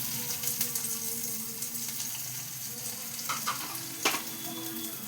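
Bitter gourd pieces fry in hot oil with a steady, close sizzle, broken by a few light clinks and stirring scrapes near the end.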